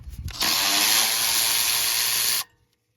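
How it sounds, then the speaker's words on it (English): A power tool drives a 10 millimeter socket to remove a bracket from a Honda Pilot, giving one loud, close whirring burst of about two seconds that stops abruptly. "next we're gonna take a 10 millimeter and take this bracket off."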